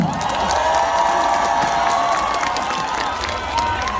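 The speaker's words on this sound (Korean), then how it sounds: "큰 박수 한 번만 주시겠어요?" Applause and cheering from a large outdoor festival crowd at an opening celebration concert of the 2024 Goryeong Daegaya Festival, continuous clapping mixed with shouts and whoops, loud and sustained throughout.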